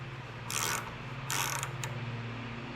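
A ratchet tightening the clutch bolt on a Coleman BT200X minibike fitted with a 30 Series clutch, heard as two short bursts of clicking over a steady low background hum.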